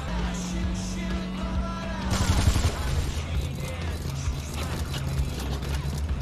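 Gunfire aimed at a car in Gangstar Vegas, a few sharp cracks and metallic clatter set against a steady game soundtrack and background hum, moderately loud and continuous.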